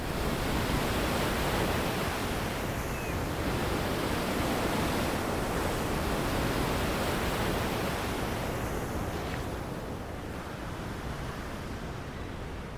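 Constant roar of heavy stormy surf crashing and churning on rocks, a broad wash of noise with no pauses, loud and close throughout.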